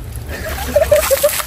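Water splashes and sloshes as it is poured out during an outdoor party game in hot weather, short bursts over a low background with no voices heard.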